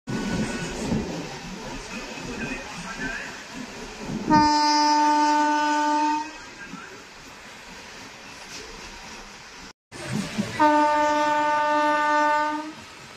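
A Kharagpur to Digha passenger train runs with a steady rumble, broken by two long, loud horn blasts, the second after a brief dropout.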